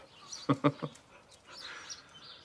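A dog gives three quick, sharp barks close by, then falls quiet while faint chirping continues in the background.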